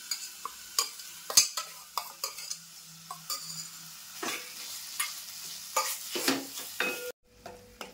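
Onion and coconut paste frying in hot tempering oil in a home kitchen, a steady close sizzle broken by repeated scraping and clinking of a spoon stirring in the pan, ending in a brief drop.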